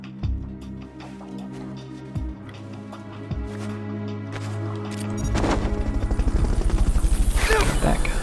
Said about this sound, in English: Fulton recovery helicopter